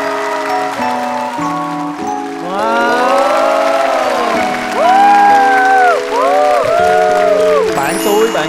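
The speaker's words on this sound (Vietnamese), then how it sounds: "Hãy dành một tràng pháo tay cho món quà đặc biệt màu xanh lá cây này." An audience at a show applauds and cheers, the clapping and crowd noise swelling under and between strong music with singing, loud and sustained throughout.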